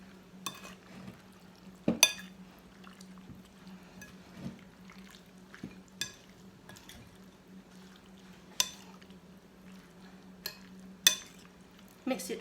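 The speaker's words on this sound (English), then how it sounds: "Mix it well." Spoon stirring sambal sauce through a chopped vegetable mixture for archar, a quiet sequence of scattered clinks and scrapes against the bowl with soft wet mixing noises in between.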